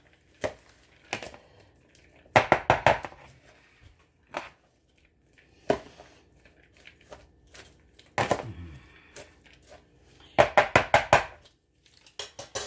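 Shredded apple and pear coleslaw with lime is tossed in a bowl, giving short clusters of crisp rustling and scraping strokes separated by quiet pauses, close up and with no talking.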